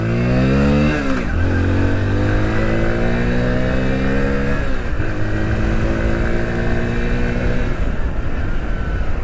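A Hero Splendor Plus Flex Fuel motorcycle running on E20 fuel revs up close and loud, climbing through gears in three rising sweeps with brief dips between shifts, and no speech over it.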